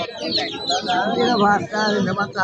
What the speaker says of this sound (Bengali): এদিকে আরও অনেক মুরগি আছে সবাই দেশি মুরগি নিয়ে আসছে